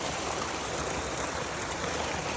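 Spring water flowing steadily at a spring resort in Nagcarlan, Laguna, a continuous broadband rush like a nearby stream with no pauses or voices.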